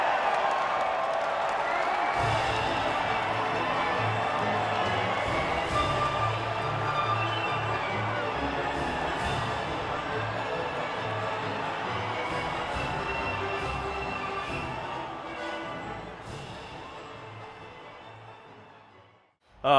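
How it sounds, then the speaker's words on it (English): A crowd cheers at the podium of the Spanish Grand Prix in an F1 racing video game, a broad, steady wash of cheering and applause that holds for most of the time, then fades away near the end. "the reaction from the crowd must be incredibly uplifting for them"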